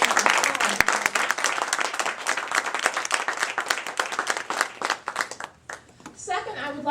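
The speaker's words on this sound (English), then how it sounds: "join me and just clap for Indy Reads" Audience applause for Indy Reads at a book event, dense clapping filling the room for several seconds before thinning out, with a voice starting to speak as it fades.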